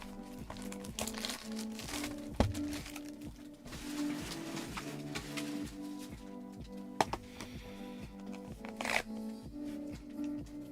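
Pokémon card packs shuffled by hand, a steady run of soft papery rustling and crinkling with occasional sharper snaps, close up and fairly quiet, without talk.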